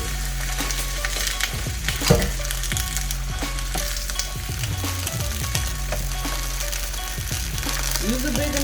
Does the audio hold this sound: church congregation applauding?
no